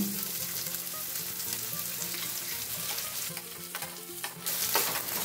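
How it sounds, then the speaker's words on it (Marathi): Onion sizzles in hot oil in a pan with cumin seeds and curry leaves, a loud continuous frying hiss with the scrape and clink of stirring throughout, no voices. "आता कांदा टाकून घेऊ"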